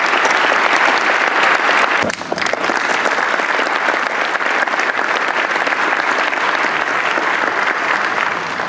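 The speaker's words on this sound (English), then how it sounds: "could you stand and maybe we could applaud them and thank them." A conference opening-ceremony audience applauds in a loud, sustained round of clapping that fills the room. It holds steady throughout, with a brief dip near the start.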